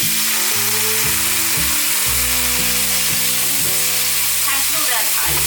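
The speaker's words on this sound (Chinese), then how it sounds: "大约炒了1分钟左右，可以把杏鲍菇和香菇放进来。" Dried chilies sizzle loudly in a wok with king oyster and shiitake mushrooms, making a dense, continuous crackling fry up close with scraping stirs throughout.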